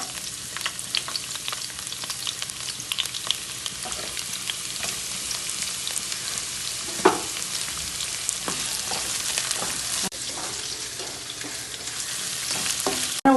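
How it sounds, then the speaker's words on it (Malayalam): Chopped onion frying in ghee in a pot for an Eid biryani, a steady close sizzle with occasional stirring scrapes and clinks throughout, no talking. "ഉള്ളി നന്നായി പൊരിഞ്ഞിട്ടുണ്ട്."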